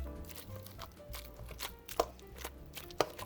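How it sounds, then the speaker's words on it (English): A potato masher pushes through cooked potato with butter and milk in a few soft, irregular squelching thumps, close and fairly quiet, with no talking. "I'm gonna mash the potato with the potato masher"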